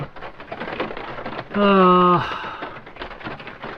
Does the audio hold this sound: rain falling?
yes